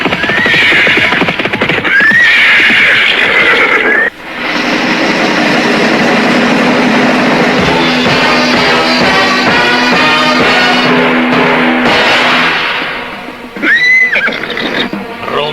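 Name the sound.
horses galloping closer with neighing, radio drama sound effect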